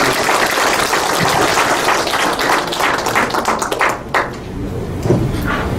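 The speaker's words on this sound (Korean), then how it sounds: "이윤정 선생님 나의 회복과 재활 큰 박수로 환영해 주시기 바랍니다." An audience at a self-advocacy speech event claps loudly to welcome the next speaker. Dense, close applause fills the room and thins into scattered claps toward the end.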